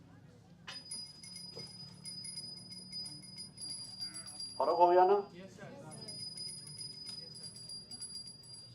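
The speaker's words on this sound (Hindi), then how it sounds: "अब ये घंटी को सुनो" A bell in a science demonstration at an innovation festival gives a thin, sustained high ringing that stops briefly midway and then resumes, faint under a room hum, while a person speaks over it.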